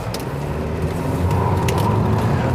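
A 2014 Buick Regal Turbo, front-wheel drive, pulls away from a standstill, its engine rising into a building, muffled drone heard from inside the cabin over a couple of seconds.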